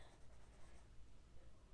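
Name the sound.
coloured pencil colouring on paper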